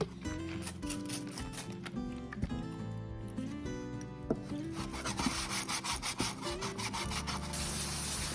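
Wet sanding of a transmission part on 400 grit sandpaper laid over a sheet of glass, with water, giving a steady close rubbing scrape over music or background tones that runs through the whole stretch.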